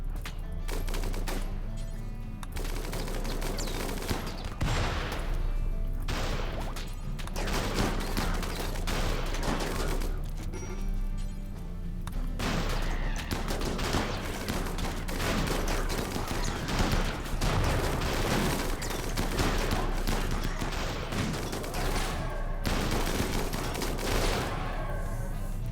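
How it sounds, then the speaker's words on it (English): A light machine gun fires in a battle game, dense continuous bursts of rapid gunfire with short pauses, loud and sustained throughout amid other shooting. "An LMG out here."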